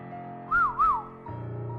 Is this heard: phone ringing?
no